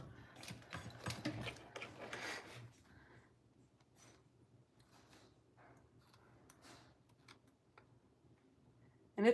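A sewing machine stitches tabs on a fabric glasses case, with a quick burst of rapid mechanical stitching at the start and softer, intermittent ticking and clicks of the machine afterward.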